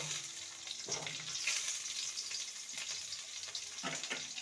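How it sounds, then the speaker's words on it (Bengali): Diced potatoes fry in oil in a wok, a soft, fairly quiet sizzle with a few brief stirring scrapes and no talking. "ওই তেলে ভেজে নেব এখানে আমি আলু নিয়েছি ডুমো ডুমো করে কেটে নিয়েছি আলুটাকে ভেজে নেব"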